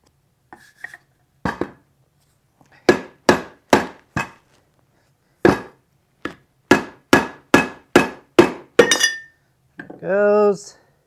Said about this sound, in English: Let's see if I can get this guy off. Go get my hammer again.